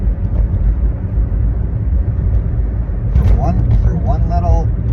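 Steady low traffic rumble from cars on a highway where several police cars are pulling one car over, continuous and fairly loud, with a brief higher engine or siren-like tone near the end; a voice talks over it.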